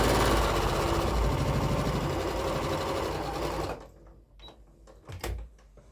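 A sewing machine runs steadily and loud for several seconds while stitching a quarter-inch quilt seam, then stops, followed by a few faint clicks and handling sounds.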